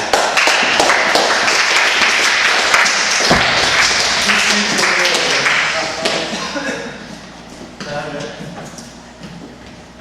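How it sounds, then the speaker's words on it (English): Audience applause at a live comedy show, loud and dense for about six seconds before thinning out under a voice that starts talking. "Let's give a round of applause for these two."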